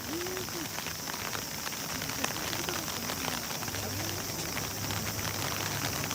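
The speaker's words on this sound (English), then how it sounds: "Oh, the rain is starting to come down." Rain falls at a stadium during a typhoon in Tokyo, a steady dense hiss with light wind and no voices.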